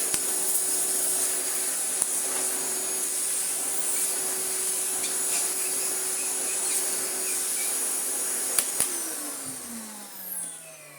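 An Electrolux Excellio Z5228 vacuum cleaner, restored and rated at 425 air watts, runs with a steady loud whine and airflow roar, then spins down near the end, heard close up and alone.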